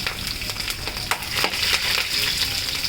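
Green chilies fry in hot oil while tempering for mango pulihora, giving a close, steady crackling sizzle with quick sharp pops scattered throughout.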